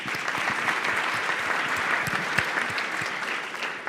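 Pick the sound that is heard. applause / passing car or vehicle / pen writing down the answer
applause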